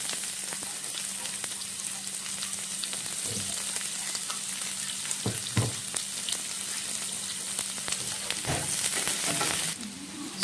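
Onion sautéing with cumin seeds in a pan, a continuous close sizzle with occasional clinks and scrapes of stirring, no voices.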